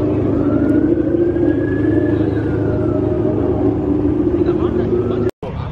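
A police car siren sweeps in a slow rising and falling wail. It sits beneath a loud, steady idling engine rumble at a late-night street gathering of performance cars, and there is a short dropout near the end.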